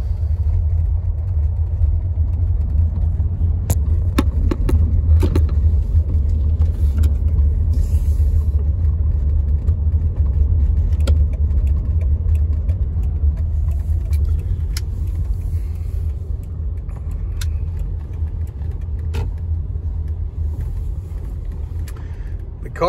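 A 2007 Toyota Camry hybrid idles with a steady low engine rumble, close and constant throughout, with occasional faint clicks and light knocks over the hum.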